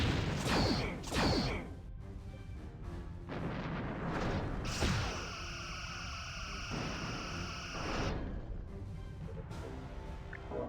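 Starship torpedoes launch in Star Trek Bridge Commander with sharp whooshing bursts, two quick shots early and more later, over a sustained electronic hum and tonal weapon drones.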